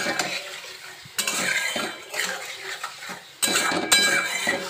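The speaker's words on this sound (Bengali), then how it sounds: "এবার আমি এইগুলো সব যা আছে সব আমি এর সঙ্গে দিয়ে আরও মিনিট 2 কষিয়ে নেব।" A spoon scrapes and clinks against a pan while spice masala is stirred and fried for paneer curry, with soft sizzling, a few louder metallic knocks and a steady kitchen background.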